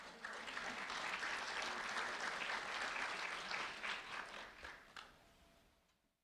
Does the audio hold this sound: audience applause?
yes